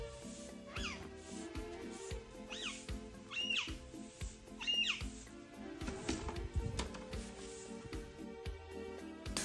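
A four-year-old house cat meows several times, fairly close, in short calls spaced a second or so apart over a low, busy indoor background.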